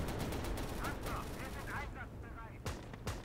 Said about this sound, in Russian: Так кто там стреляет по мне?